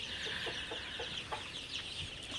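Baby chicks in a poultry house brooded under a bulb, their high peeping forming a dense, continuous chorus with a few brief louder chirps poking out.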